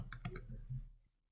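A few quick key clicks on a computer keyboard as matrix values are typed in, close and quiet, then fading to silence.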